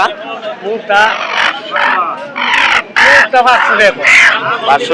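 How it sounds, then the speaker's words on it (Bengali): Chickens cluck and squawk loudly and close by at a poultry market in Haluaghat, Bangladesh, with a rooster's crow among them and people talking over the busy market noise. "এই যে দেখেন মুরগি নিয়ে আসে"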